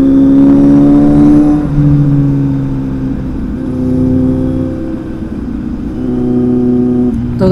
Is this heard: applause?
no